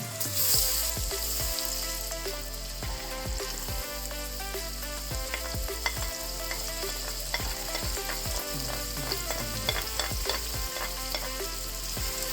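Onions sautéing in a hot pan as the base for spaghetti sauce, a steady loud sizzle with crackling spatter and occasional stirring scrapes throughout, no voices.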